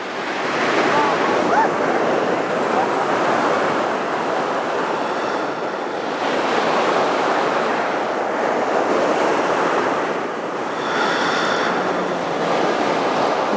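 Ocean surf rolls in steady, continuous washes, swelling and easing every few seconds with a broad hiss of breaking water, fairly close and loud with some wind noise on the microphone.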